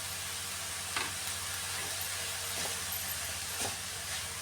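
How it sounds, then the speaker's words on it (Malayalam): Grated cabbage and coconut stirred in a hot pan: a steady, quiet sizzle and hiss throughout, with a few soft scrapes of the spoon at roughly one-second intervals and no talking. "ഇതും കൂടെ നന്നായിട്ടൊന്ന് മിക്സ് ചെയ്യാം."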